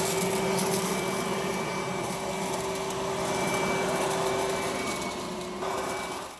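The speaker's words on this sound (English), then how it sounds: "you can see the leaf vacuum quickly sucks them in" A 36V cordless leaf blower and vacuum (DUB363ZV) runs steadily and loudly, sucking in a pile of leaves with a constant high whine and broadband rushing air that eases slightly near the end; no speech.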